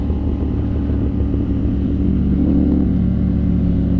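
Honda CB650 motorcycle engine running at close range, a loud continuous low rumble that swells slightly midway and holds steady throughout.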